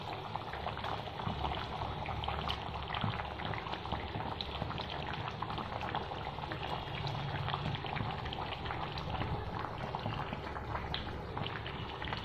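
Fish curry simmers in a pan with a continuous, close bubbling and sizzling that stays at even loudness, with no talking.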